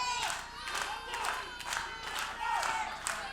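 A wrestling crowd cheers and shouts at a live show, a loud, swelling roar with repeated surges of yelling and chanting and some scattered clapping, continuous and fairly close.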